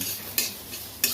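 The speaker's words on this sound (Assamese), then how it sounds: "এতিয়া মই এইখিনি এনেকৈ ফ্ৰাই কৰি লৈছোঁ।" Small fish fry with ginger and garlic in a pan, giving a constant sizzle broken by two quick scraping stirs of a utensil against the pan.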